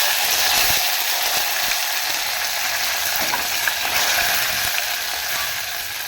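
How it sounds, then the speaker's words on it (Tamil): Dried red chillies and curry leaves sizzle in hot oil, a continuous loud hiss full of fine crackles and small pops that holds steady throughout and fades slightly at the end. "இப்போ வரமிளகா சேர்த்துக்கலாம் கருவேப்பிலை சேர்த்துக்கலாம்"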